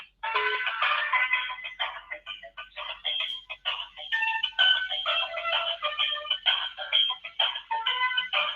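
Telephone on-hold audio plays: a thin, midrange recorded voice message runs continuously with brief pauses, sounding like it comes through a phone line, moderately loud and alone.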